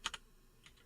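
A few quick keystrokes on a computer keyboard, a pair of sharp clicks, a pause, then two more soft taps, faint and close.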